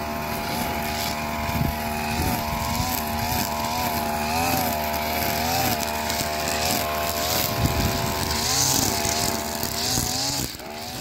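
A brush cutter runs loudly at close range while trimming grass in a lemon orchard, its high two-stroke whine rising and falling as the engine revs under load.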